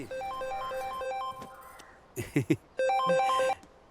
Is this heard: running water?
no